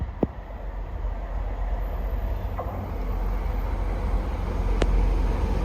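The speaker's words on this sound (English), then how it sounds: "next train to pass through is a 185" A Class 185 train passes through a station at Dewsbury, a steady low rumble building gradually, with a few sharp clicks, all heard from some distance.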